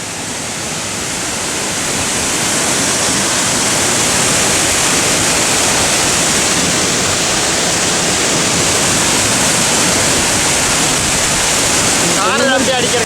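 Laws waterfall roars as a loud, steady broadband rush of falling water, close and continuous throughout, with a faint voice briefly audible near the end.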